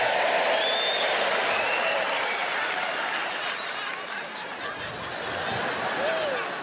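A stand-up comedy audience breaks into loud applause and cheering, a dense wash of clapping with whoops and scattered laughter, sustained and fading slightly midway before swelling again.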